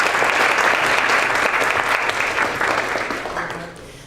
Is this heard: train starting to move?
no